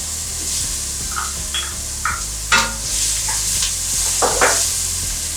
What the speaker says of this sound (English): We're going to add the 2 jalapenos that we minced up